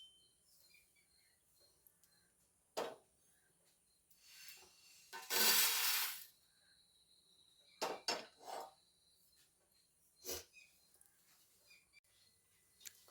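Roasted spices are tipped out of a metal pan to cool, giving scattered scraping and rubbing sounds with one longer rasping pour in the middle and a few sharp knocks, quiet and close in a still room.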